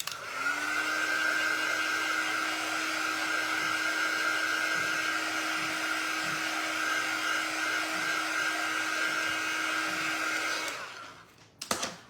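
A hair dryer blows on a tea towel in a steady, close, loud whine with a constant pitch for about ten seconds, then switches off with a few soft clunks.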